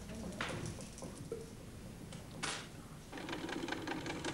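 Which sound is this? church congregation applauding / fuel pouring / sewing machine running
sewing machine running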